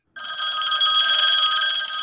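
A loud, continuous metallic bell of an old telephone rings close up, a sustained jangling trill lasting about two seconds.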